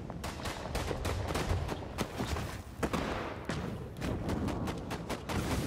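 Automatic AK rifle fire in a vampire battle royale video game, a dense run of sharp shots rattling steadily throughout at moderate loudness, with no voices.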